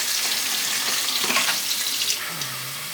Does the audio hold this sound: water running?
yes